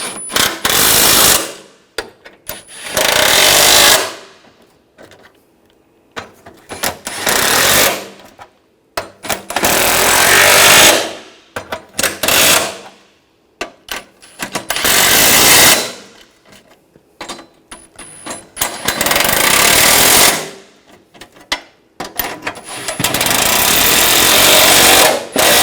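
Power tool tightening bumper bracket bolts on a 2004-2008 Ford F-150, loud rattling bursts of a few seconds each, about six of them with silent pauses between, close up.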